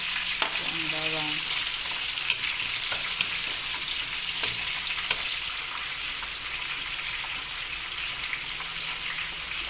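Garlic sizzles in a hot pan, an even, close frying hiss that runs through the whole stretch with a few faint clinks, and no voices over it.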